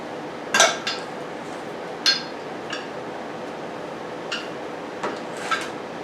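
Pins and a brake pad come out of a floating disc brake caliper on an M715 truck, giving a few sharp metallic clinks and taps at uneven intervals, close by with no talking.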